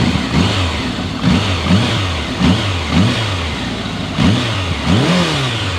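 A 2000 Kawasaki Voyager XII motorcycle engine idles close by with a rhythmic, throbbing low pulse and gentle periodic rises, loud and steady with no talking.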